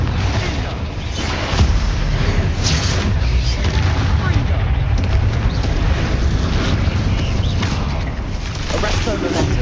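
Confringo fire spells exploding in Hogwarts Legacy gameplay, dense overlapping booms and crackling blasts under a constant roar of combat, loud and continuous, with spoken spell incantations mixed in.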